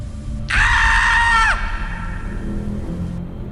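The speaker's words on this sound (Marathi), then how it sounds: "विहिरीमधनं एक किंचाळण्याचा आवाज आला" A horror-story sound effect of a scream rising from a well: one loud, sustained shriek of about a second that cuts off sharply, followed by a low, eerie background rumble.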